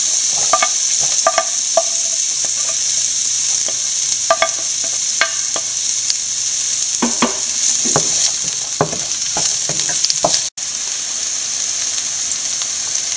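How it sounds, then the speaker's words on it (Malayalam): Chopped onions go into melted ghee and sauté for a shrimp biriyani, a steady close sizzle and crackle with scattered stirring scrapes and one sharp clack near the end, no voices. "ഇനി അതിലോട്ട് അരിഞ്ഞു വെച്ചിരിക്കുന്ന സവോള ഇട്ട് കൊടുക്കാം."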